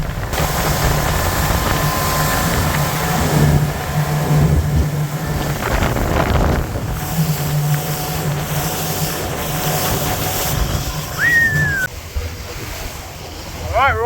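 Off the Taranaki coast of New Zealand, a small dive boat heads out to sea in a breeze, with a steady engine drone, rushing water and wind buffeting the microphone throughout, and a brief whistle-like tone near the end.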